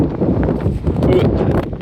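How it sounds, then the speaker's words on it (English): Steady wind buffets the microphone with low rumbling gusts, loud and continuous throughout, with faint rustling mixed in. "started being windy"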